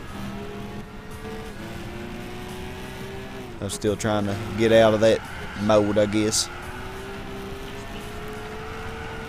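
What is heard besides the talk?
car engine in video game Gran Turismo 6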